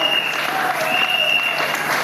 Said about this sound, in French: Acclame les rois.